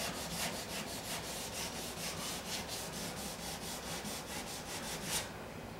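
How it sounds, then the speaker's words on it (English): Hand sanding of paint runs on a 2006 Chevrolet Aveo with a Durablock sanding block, a steady rhythmic back-and-forth scraping of about a dozen close, even strokes, with no talk. "I can sand on the tape, and I'm not worried about burning through underneath these runs down in here"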